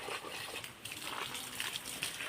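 Water from a hose pipe splashes onto garden plants, an uneven nearby splattering and trickling that continues throughout.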